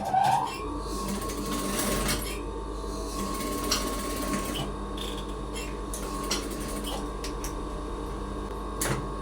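A sewing machine runs continuously while stitching a small child's birthday dress, its fast mechanical clatter and whirring steady and close, with a few brief knocks and handling sounds.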